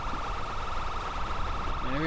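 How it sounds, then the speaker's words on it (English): A wavering police siren in a video game wails steadily at moderate volume, continuous throughout with a faint background hum. "Yeah, your siren's still going off for me."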